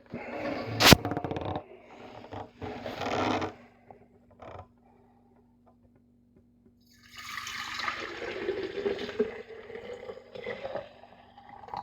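Wort pours from a vessel back into glass jars in two bursts of gurgling, splashing liquid, with a quiet pause between them, heard close up in a home brewing setup.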